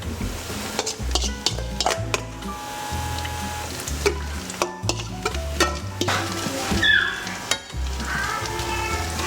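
Jeon batter sizzles in hot cooking oil in a pan while a utensil scrapes and stirs it, a steady close crackle punctuated by repeated scraping strokes and light clatter.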